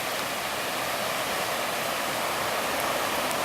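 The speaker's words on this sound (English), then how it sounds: "So that's a sidewalk over there with the water running down it." Floodwater runs down a sidewalk in Arvada, Colorado as a steady, broad rushing wash with no breaks, moderately loud and distant, with no voices.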